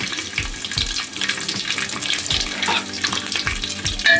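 Cashews and raisins frying together in a pan, giving a steady bright sizzle with occasional low knocks from stirring or the pan being moved.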